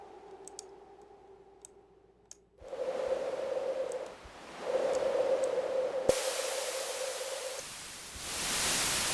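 Synthesized noise switches between hissing textures: a faint hum, then a broad static wash with a tonal band, ending in bright white noise.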